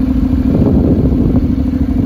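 A 2014 Honda CTX700ND ABS automatic motorcycle engine running loudly up close, a steady low rumble with a mechanical clatter filling the whole moment, no voices.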